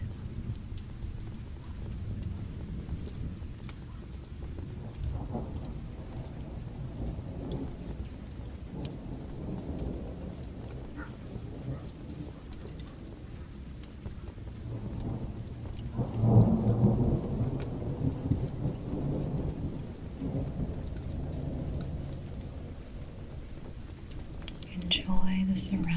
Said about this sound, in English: Enjoy the surroundings of the rain,